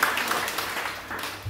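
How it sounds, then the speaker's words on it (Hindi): A church congregation at a pastor ordination applauds, a dense, fairly faint patter of many hands clapping steadily in a reverberant hall. "यीशु के लिए एक और ताली, जो ताली बजाए हमारे यीशु के लिए।"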